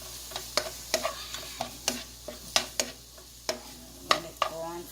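Shrimp cook in a pan over the heat, with a light sizzle under crisp, regular spatula clacks and scrapes about twice a second, close and fairly loud.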